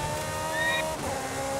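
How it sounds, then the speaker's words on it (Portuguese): Motorcycle engine in the racing game Forza Horizon 5, a steady droning motor tone with faint whining harmonics holding level throughout, close and fairly loud with no speech over it. "Gostei da moto com esse volume."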